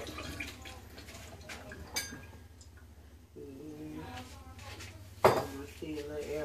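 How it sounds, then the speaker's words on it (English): A whisk knocks and scrapes against a bowl of eggs for banana pudding, giving irregular metallic clinks and taps in a home kitchen, with a few sharper strikes and someone talking quietly between them. "I'm going to whisk it up"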